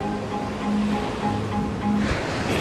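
Ocean waves washing onto a beach shore, a steady broadband roar of surf with gentle swells and faint wind, continuous and fairly loud, no voices.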